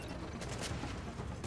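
Gunfire in the video game The Division at a refugee camp, sustained dense noisy shooting and explosions blending into a continuous loud wash of combat sound.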